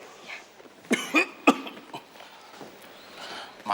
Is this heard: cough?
yes